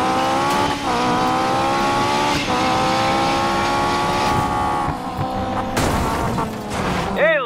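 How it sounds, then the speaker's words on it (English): Race car engines rev in the video game Need for Speed Payback: a loud, continuous engine drone that rises and falls, with a brief squeal and a bang near the end. "Better hurry, engines are revving."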